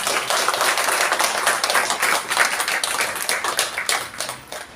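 Dense, steady clapping from an audience at a book event in Nagpur, honouring a woman author. It holds at an even level before thinning slightly near the end, with no talk over it.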